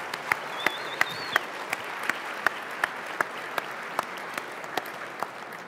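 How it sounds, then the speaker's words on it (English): Steady, fairly quiet audience applause for Category 1 finalists at the Arkansas Business of the Year awards, a soft continuous patter with a few sharper, evenly spaced claps standing out near the front. "let's give these Category 1 finalists a round of applause"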